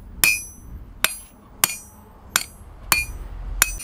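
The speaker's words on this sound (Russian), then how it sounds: "Работа с молотобойцем. Я указываю, а он бьет туда," A striker's sledgehammer hits hot metal during hand forging of keys at a smithy, with six loud, sharp, ringing blows spaced about half a second to a second apart, close by and with no talking.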